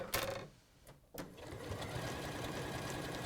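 Domestic sewing machine stitching a decorative washing line stitch, a quiet rapid mechanical whirr with a couple of short clicks at the start, then steady even running.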